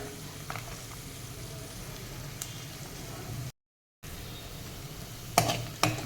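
Carrots sautéing in a pan for millet khichdi give off a soft, steady sizzle, broken by a brief silence and a couple of light utensil clinks near the end.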